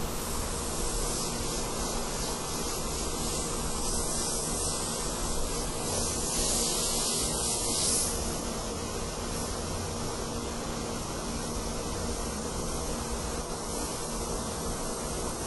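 An airbrush fitted with a 0.2 mm gun sprays paint onto a skull, giving a steady, close hiss that runs unbroken and evenly loud throughout, with no talking.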